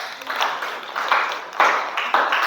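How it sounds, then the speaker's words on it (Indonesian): Classroom applause for a student group during a teacher-training lesson on religious education, a scattered patter of clapping in uneven bursts with some voices mixed in. "Tepuk tangan untuk kelompok 2."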